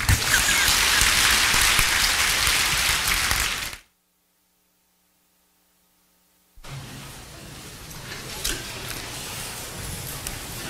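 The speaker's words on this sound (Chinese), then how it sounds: "我们再次以热烈掌声感谢师尊精彩宝贵的传法开示。" An audience at a Buddhist fire puja and dharma talk applauds the master with warm, dense clapping that breaks off abruptly into a few seconds of silence, then resumes as steady, slightly quieter applause.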